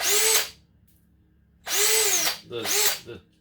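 A power drill spins up fast in three short bursts, boring pilot holes in a plastic RC racing wing, close and loud, with a brief pause before the last two runs.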